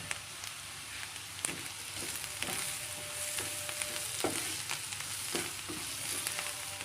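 Pulao ingredients frying in a pan after a pinch of salt and black pepper go in, a steady close sizzle broken by repeated scraping stir strokes, with no talking.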